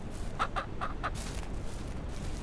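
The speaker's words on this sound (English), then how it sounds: "Pieces of crap chickens." Chickens in the farming game Ranch Simulator give a quick run of four sharp clucks close by, then a steady murmur of game ambience continues underneath.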